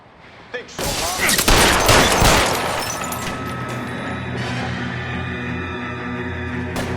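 A shootout in the 1940s Los Angeles police game L.A. Noire: a loud, dense burst of rapid gunfire erupts near the start and crackles for a couple of seconds, then fades into a lingering rumble and ringing tail with faint voices.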